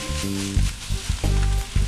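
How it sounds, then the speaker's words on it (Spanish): Nopales frying with onion and cilantro in a pan, stirred around: a steady close sizzle with rhythmic scraping pulses from the stirring. "ahora le vamos a agregar los nopales y le vamos a mover para que se integre"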